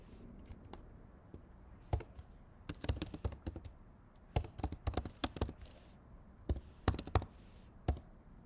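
A Linux terminal command is typed on a computer keyboard: scattered, close keystrokes speed up into quick runs, then slow to single taps with short pauses. No speech.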